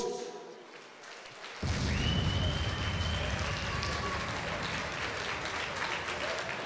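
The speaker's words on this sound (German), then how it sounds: "Klatscht mal für euch." Arena crowd at a live professional women's boxing event breaks into loud, sustained applause that starts abruptly after a quieter stretch, with a few shouts and whistles over the dense clapping.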